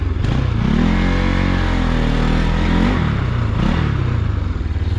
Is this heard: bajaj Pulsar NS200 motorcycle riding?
yes